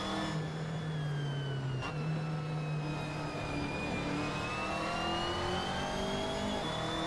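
A race car's engine in the Assetto Corsa racing game on PS4 drones and revs, pitch sliding down then climbing again, steady and loud with no talking over it.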